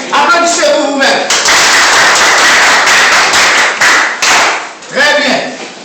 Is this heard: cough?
no